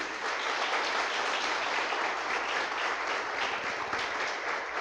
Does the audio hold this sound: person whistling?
no